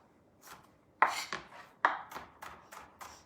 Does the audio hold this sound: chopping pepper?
yes